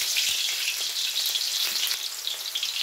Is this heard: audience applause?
no